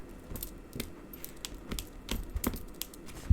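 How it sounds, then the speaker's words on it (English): Backing peels off an adhesive strip on a handmade silver and blue Christmas card, a series of small crisp ticks and light tearing rasps, close and quiet with no talk. "I'm just gonna peel the backing."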